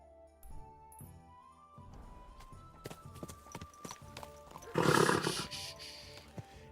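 Hooves clop irregularly on a hard surface, followed by a loud snorting horse breath, with a faint voice and scattered knocks around it.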